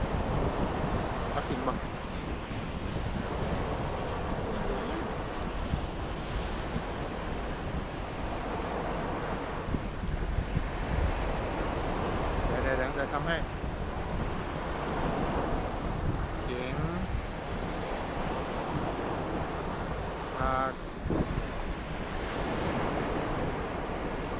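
Ocean waves wash onto the shore in a steady, broadband roar with gusting wind buffeting the microphone and a few soft surges rising and falling.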